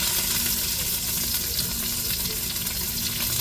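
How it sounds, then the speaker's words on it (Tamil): Chicken stir-fried in a pan with curry leaves, a continuous crackling sizzle at an even level, close by and without speech. "ஆட்டிக்கிட்டே சிக்கனை சேர்த்துருவோங்க"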